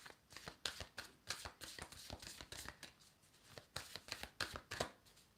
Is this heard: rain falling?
no